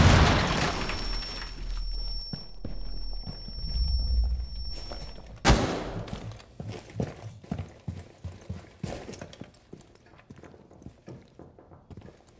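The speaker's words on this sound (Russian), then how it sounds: "Есть заряд. Взрыв." A breaching charge explodes in Rainbow Six Siege: a low rumbling bed is cut by one sudden, loud blast midway, followed by a scatter of sharp debris impacts and thuds that fade out.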